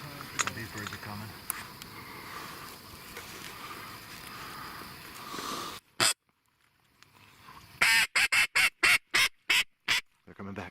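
Ducks during an early-season duck hunt: muffled calls under outdoor noise, then a short, loud burst of rapid quacks close by.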